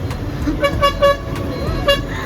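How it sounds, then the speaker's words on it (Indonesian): Several short car horn toots sound in quick succession over a low traffic rumble in Ho Chi Minh City, some near and loud, others farther off. "panik gak sih suaranya klakson di mana-mana"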